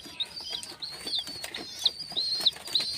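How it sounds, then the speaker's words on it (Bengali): Teddy pigeon chicks give a series of short, high, thin chirps repeated about every half second, alongside faint rustling and flutter, fairly close and with no talking. "এই হলো টেডির বাচ্চা"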